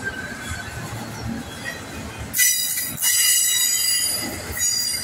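Freight train cars on a Kansas City Southern de México line roll past. A low rolling rumble breaks into loud, piercing wheel squeal partway through, and the squeal keeps screeching with clatter underneath.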